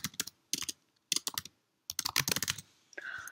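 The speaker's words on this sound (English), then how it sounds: "and then I'll type my title" Typing a title on a computer keyboard in Word Online, with bursts of quick close key clicks separated by short pauses and a brief softer run of keystrokes at the end.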